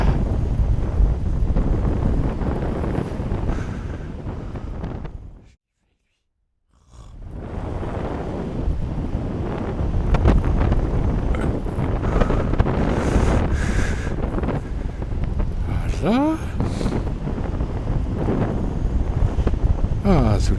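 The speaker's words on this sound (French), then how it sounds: "Le vent un peu forci" Loud, constant wind buffeting a microphone while paragliding over the coast at Pénestin, France, with a brief drop to near silence midway before the roaring gusts return.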